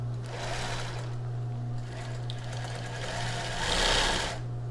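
A sewing machine runs steadily while stitching a plus-size bra with a wide strap, backstitching over the same seam, making a continuous close mechanical whir with a slight surge near the end.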